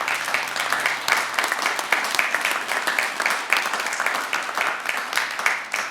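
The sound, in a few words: commencement audience applause for President Jacobson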